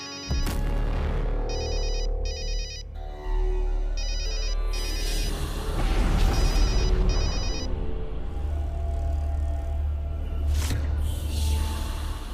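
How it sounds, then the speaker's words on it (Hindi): A phone rings repeatedly in bursts of electronic trilling tones, loud and near, with a low hum and background noise running throughout. "आपका फोन बज रहा है"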